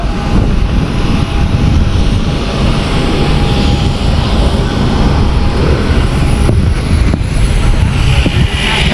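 Airplane engine roar heard from inside the cabin on a flight bound for Makassar, a loud, steady broadband drone running unbroken throughout with a faint tonal hum.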